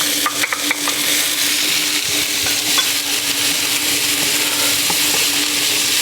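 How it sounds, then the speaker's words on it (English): Onions and celery frying in butter in a pan, a loud, dense, steady sizzle with a few light stirring clicks near the start, close up and without speech. "In with this butter will go our onions and our celery so we can get these to soften a bit and break down."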